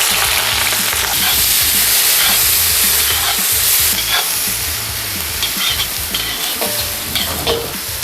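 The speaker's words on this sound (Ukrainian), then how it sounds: "І зразу після грудинки в казан відправляється звичайна цибуля та порей." Chopped onion and leek frying and sizzling in a heavy pot right after smoked brisket, a steady close hiss with scraping stirs throughout, no talking.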